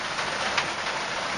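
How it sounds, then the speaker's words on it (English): Steady rain falls in Belize during the dry season, a constant broad hiss of drops at even, moderate loudness with no voices, and a faint brief bird note rising once through the wash. "I'm in beautiful Belize right now, and it's raining."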